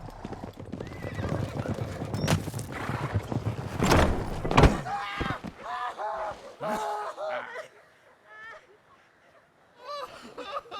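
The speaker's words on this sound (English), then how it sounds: "Damn, some loud horses." Loud galloping hooves and repeated shrill neighs from horses in the video game Witcher 3, the hoofbeats dense early on, then whinnies ringing out more sparsely against quieter gaps.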